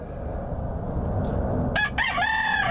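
A big game fowl rooster, king of the coop, lets out one loud, close crow in the last second after a stretch of quiet yard noise.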